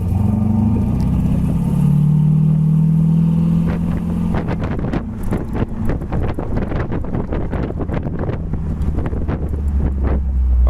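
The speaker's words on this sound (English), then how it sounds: "It's got a nice dual exhaust sound." A 1934 Ford street rod with dual exhaust rumbles close by, its steady low exhaust note mixed with wind buffeting the microphone and a run of rapid crackles and pops in the second half.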